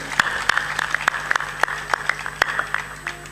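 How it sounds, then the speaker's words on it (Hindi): A small gathering at a Hindu devotional sermon claps for devotees as they are seated, with sparse, uneven individual claps spaced a few beats apart over a low hum. "ताली बजा दो"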